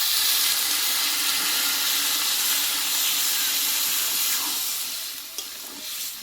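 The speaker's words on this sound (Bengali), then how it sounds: "এইবার জলটা দিয়ে দেবো" Spiced mixed vegetables frying in a pan give a loud, steady broadband sizzle and hiss as water is poured in, easing slightly toward the end with a few small clinks.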